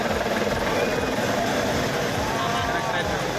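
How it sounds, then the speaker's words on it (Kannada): A helicopter showering flowers on a Basaveshwara statue near Jagat Circle during Basava Jayanti gives off a steady, droning rotor whir that holds throughout, with a voice talking over it. "ಜಗತ್ ವೃತ್ತದ ಬಳಿ ಇರೋ ಬಸವೇಶ್ವರರ ಪುತ್ಥಳಿಗೆ ಹೆಲಿಕಾಪ್ಟರ್ ಮೂಲಕ ಪುಷ್ಪಾರ್ಚನೆ ಮಾಡಲಾಗಿದೆ."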